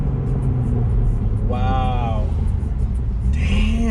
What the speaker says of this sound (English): And then the burbles, they're even way more intense now.